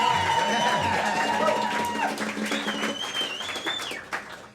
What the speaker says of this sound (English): He gets the most applause because he has the most strings.